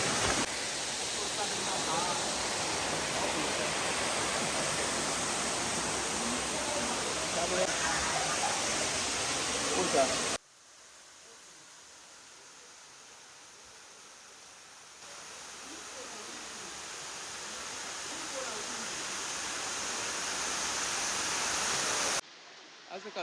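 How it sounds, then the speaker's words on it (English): Chenku waterfall in Ghana roars as a steady broadband rush of falling water, loud and close at first, then dropping to a softer, more distant wash before swelling again. "Yeah, this is the waterfalls."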